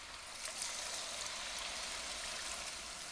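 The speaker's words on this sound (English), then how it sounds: "Now you're going to want to take your water and add it in." Water pours steadily into a pot of pork chili verde, a soft continuous splashing rush heard close and quiet.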